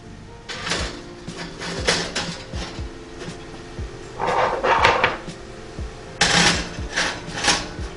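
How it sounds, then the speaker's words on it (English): Ramekins going into a NuWave Bravo XL smart oven: a run of close clunks, scrapes and sliding rattles of dishes and oven racks, with louder knocking bursts at intervals and no talk. "I'm putting the ramekins in here"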